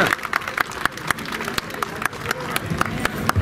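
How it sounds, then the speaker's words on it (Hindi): A crowd claps in welcome for a guest at a local event in Gorakhpur, a run of uneven hand claps standing out over the room with some background voices. "अरे तनी जोरदार ताली हो चाहिए।"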